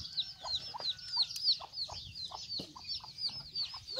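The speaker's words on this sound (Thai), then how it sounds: "ระวังไก่ระวังไก่" A mother hen with young chicks clucks in short low bursts while the chicks peep in a quick repeated chatter, fairly faint and close in an outdoor rural setting.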